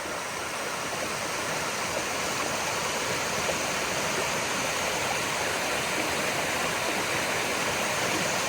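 Water from a hidden waterfall pours steadily over rocks, a dense, continuous rushing wash held at an even level from start to finish, with no voices over it.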